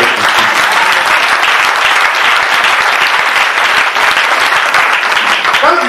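A church congregation at a French-language Sunday service bursts into loud, sustained applause, a dense wash of many hands clapping close by and continuing steadily throughout.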